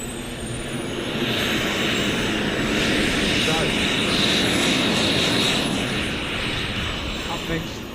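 A large Futura model jet with thrust vectoring, flown by AZ Aerosports at an air show, produces a sustained turbine roar and high whine that swells and fades gently while a commentator talks over it.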